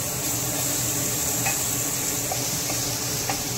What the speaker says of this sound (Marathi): लसूण अद्रक जिऱ्याचा पेस्ट घातलेला आहे, त्याला असं परतून घेत आहे।